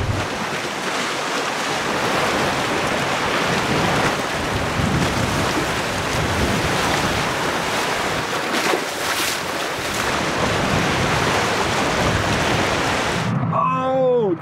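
Strong wind blows across Lake Conroe in Texas during a bass fishing tour stop. It makes a loud, steady roar of gusts buffeting the microphone, with choppy water beneath, and cuts off abruptly near the end.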